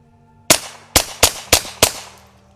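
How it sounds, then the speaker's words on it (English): A .22 handgun fitted with a light, fluted Anacoex 22 suppressor fires five sharp, close shots in quick, slightly uneven succession, each a crisp crack with a short decaying tail. "Next up, the lightest can I own, the Anacoex 22, and it looks really cool with this fluting."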